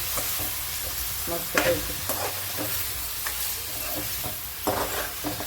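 Mutton frying in a pan while being stirred, a steady sizzle broken by repeated scraping and clattering strokes of the spoon, close by, with a brief spoken remark.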